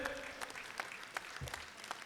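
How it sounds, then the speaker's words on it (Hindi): Brief applause at a BJP OBC Morcha welcome ceremony in Delhi, scattered individual claps in a loose rhythm, fairly faint, lasting about two seconds. "एक बार जोरदार ताली बजा के बहन जी का स्वागत करें।"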